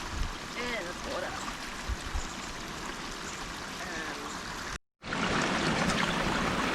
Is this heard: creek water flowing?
yes